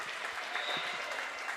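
A high school boys basketball crowd at East Carter's final home game rises and applauds, a dense, steady wash of clapping and cheering heard from above the court.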